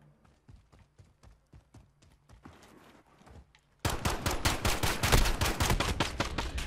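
Pistol fire in a Call of Duty Modern Warfare gunfight: sparse single shots at first, then a loud, rapid barrage of repeated gunshots in the last few seconds.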